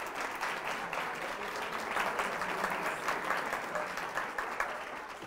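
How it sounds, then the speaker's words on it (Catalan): A studio audience at a Catalan television word game breaks into sustained applause, a crowd of hands clapping fairly close in a steady, textured roar that holds evenly throughout. "més aplaudiments, mireu"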